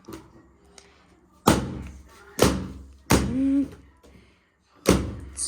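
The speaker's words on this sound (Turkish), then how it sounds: "Onları patlat. Evet. Onları da patlat." Leftover birthday balloons popped one after another: four or five loud, sharp bangs with short decays, spaced about a second apart, close by, with a voice briefly heard between them.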